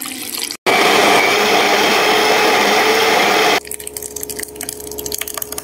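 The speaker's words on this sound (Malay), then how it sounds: "Blend halus cili kering, bawang merah, halia dan bawang putih." An electric blender grinds dried chili, shallots, ginger and garlic with a little water in a loud, continuous whirring burst of about three seconds, followed by quieter clattering and handling sounds.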